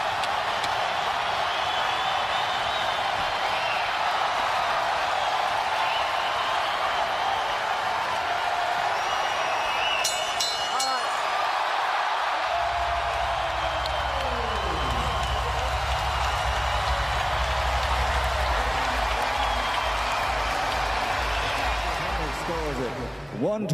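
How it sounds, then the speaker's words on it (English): Boxing arena crowd at the end of a Pacquiao–Rios bout, a loud continuous roar of cheering and applause filling the whole stretch, with a few sharp claps or bangs near the middle and a deep rumbling swell in the second half. "The crowd loves it."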